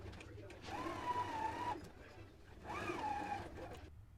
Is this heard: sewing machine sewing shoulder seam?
yes